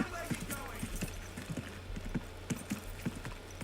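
Rhythmic hoofbeats from a horse ridden slowly in a video game, steady clip-clop at a walking pace, fairly quiet and close.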